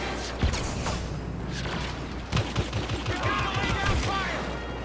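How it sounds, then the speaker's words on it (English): Barrage weapon fire in a Star Wars video game, a rapid string of sharp blaster shots and impacts over continuous battle noise, with voices talking over the action. "I missed with my barrage"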